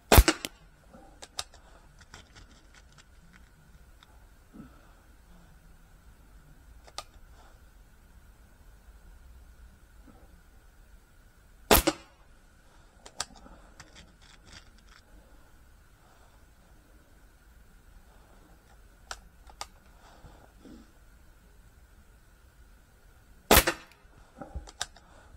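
Stoeger XM1-Sport airgun shots striking a toaster: sharp, isolated cracks about every ten seconds, one at the start and two more later, separated by quiet stretches with faint rustling.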